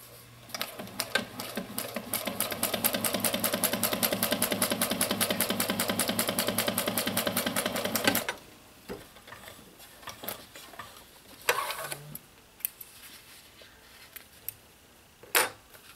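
A sewing machine runs a steady rapid top stitch through fabric for about eight seconds, its needle beating in a fast even rhythm, then stops, leaving a quieter room with a few scattered handling clicks and knocks.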